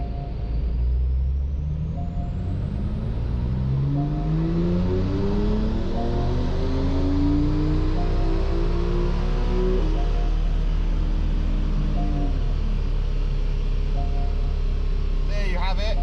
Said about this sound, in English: We're just going to keep our foot down all the way to the end of the red line